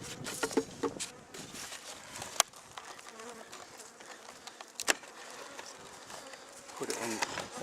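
Honey bees buzz steadily around a lifted beehive super, a soft, continuous drone with light knocks and handling taps, fairly quiet and close.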